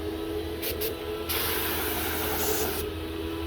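A Graco 9.5 HVLP Pro Contractor paint sprayer coats functional shutters with a steady, close airy hiss. Brief spurts of spraying come first, then a longer continuous pass.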